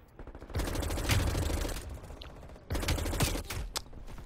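Fara 83 rifle fire in Black Ops Cold War, two long rapid automatic bursts with brief shots after, close and loud against quiet game ambience.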